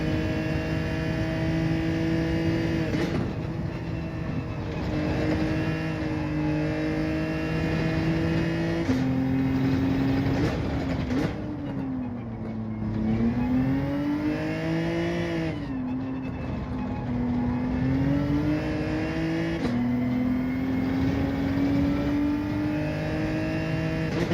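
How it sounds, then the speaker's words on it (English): Race car engine and spinning rear wheels in a racing video game, a continuous loud droning engine note rising and falling with revs, with no talk. "Oh, I can just hear the wheels spinning on the back of this."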